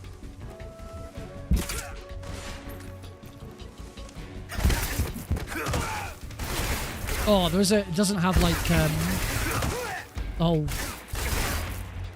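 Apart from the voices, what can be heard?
gunshots in video game Metal Gear Solid Delta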